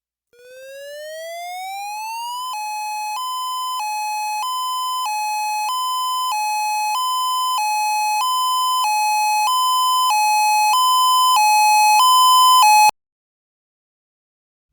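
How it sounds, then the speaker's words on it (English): A chemical release warning siren gives an alternating high-low electronic wail that first rises steadily in pitch, then switches rhythmically between two tones, growing louder before stopping abruptly, with no voices. "It is an alternating high-low wail sounding like this."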